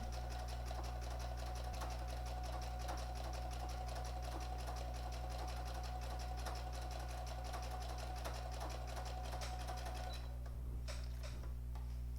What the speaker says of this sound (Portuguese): Já costurei o meu meio e agora eu vou fazer a voltinha desse meu coração.